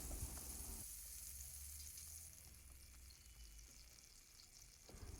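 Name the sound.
burger buns frying in butter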